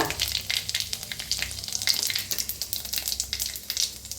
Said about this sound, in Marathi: आता तेल चांगलं गरम झालेलं आहे, त्याच्यातच टाकूया अर्धा चमची मोहरी, अर्धा चमचा जिरं, थोडंसं हिंग